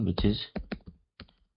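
Quick bursts of clicking keystrokes on a computer keyboard, a short run of taps followed by a few isolated presses, close, with a voice speaking briefly over the start.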